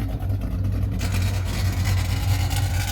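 A 1970 Pontiac LeMans with a 455 V8 and a new MSD ignition box idles close by in a steady, deep rumble, with a brighter broadband layer rising after the first second.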